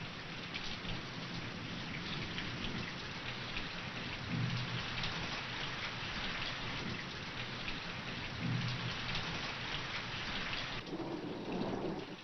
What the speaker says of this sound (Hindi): उसी तरह मेघ गरज रहे हैं, वैसे ही वर्षा हो रही है